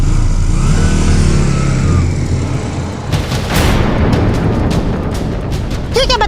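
A motorcycle pulls away with a steady engine drone, then a burst of loud, broadband revving and road noise as the bike rides off, with brief high-pitched sounds at the end.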